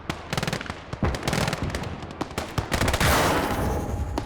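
Soviet troops fire from building windows in a WWII video game, with dense rapid machine-gun bursts and scattered rifle shots crackling nonstop, loud and close, building into a heavy sustained roar of gunfire near the end.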